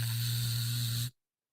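Vibrator running in constant vibrate mode, a steady low buzz with a bright hissy edge that holds level for about a second and then cuts off abruptly into silence.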